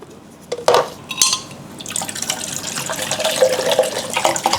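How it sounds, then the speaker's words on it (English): A few sharp plastic clicks and knocks, then water runs and splashes into a coffee machine's small tank, growing steadily louder and fuller toward the end. "I need to fill this little tank up with water."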